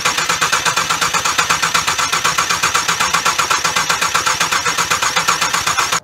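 A Cadillac 2.8/3.6 V6 with multiple-cylinder misfire and a dead ignition coil pack running loud and close, a rough, rapidly pulsing engine chug that stays steady before cutting off abruptly.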